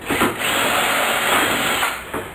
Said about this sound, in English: drill through into the build